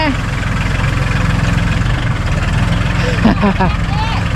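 A farm tractor's engine drones steadily in first gear as it ploughs a field, giving a continuous low throbbing chug, with people talking over it.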